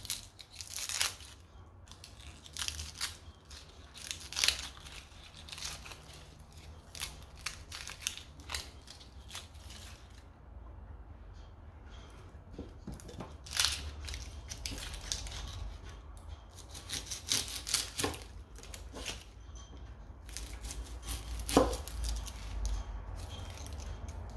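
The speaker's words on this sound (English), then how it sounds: "So we're just dicing those." Two small onions being diced with a knife on a board, giving repeated crisp chopping and crunching strokes in irregular bursts, close and fairly loud, with no talk.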